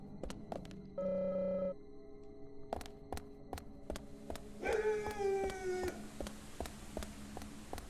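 Eerie drawn-out tones like a dog howling in the Deadly Premonition video game, rising over a steady electronic hum and sharp repeated clicks, fairly faint and mechanical in character.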